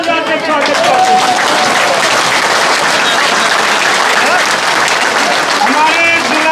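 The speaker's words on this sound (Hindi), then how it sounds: "एक बार खड़े होकर जोरदार ताली बजा के स्वागत करते हैं।" A standing crowd at a political gathering greets a guest with loud, sustained applause, a dense wash of clapping that stays steady throughout with a few voices faintly mixed in.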